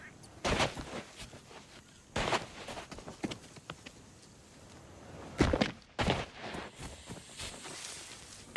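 Cannon fire booms in the Sea of Thieves pirate video game, several heavy blasts spaced a second or two apart, loud and sharp with short decaying tails over a quieter ambient bed.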